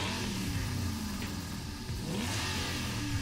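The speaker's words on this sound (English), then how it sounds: "Let's go for the Aston Martin. I've driven this quite a lot. Fantastic sounding car." Aston Martin Group 4 race car in Gran Turismo 7 revving steadily, a continuous loud engine drone with rising and falling pitch sweeps, no talk.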